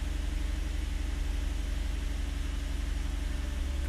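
A Nissan 350Z engine idles steadily just after starting, a low, even rumble with a faint pulsing hum and no voices.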